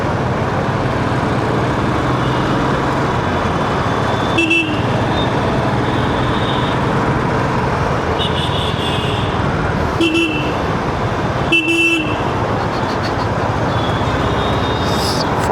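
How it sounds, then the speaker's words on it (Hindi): Dense evening road traffic in Bengaluru rumbles steadily, with several short car horn toots cutting through, two of them close together near the end. "इधर बहुत ट्रैफिक होता है"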